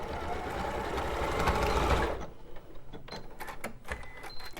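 A sewing machine stitches across the back of a stuffed toy, running in a steady close whir for about two seconds before stopping, followed by soft handling clicks and rustles.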